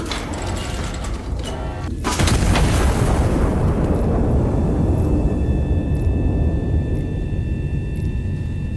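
An HE artillery shell in the indie game Iron Nest is loaded and fired with clanking breech mechanisms, then a heavy, sustained roaring blast rumbles and slowly fades, with a faint tonal hum lingering afterward.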